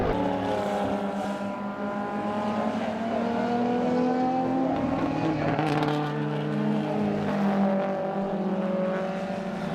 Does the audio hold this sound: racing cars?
yes